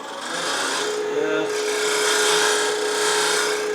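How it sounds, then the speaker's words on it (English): A round nose scraper shaving a wooden box on a lathe gives a continuous, even rasping scrape, close and fairly loud, over a steady humming motor tone. "I'm going to use my round nose scraper to kind of put a slight incline on it"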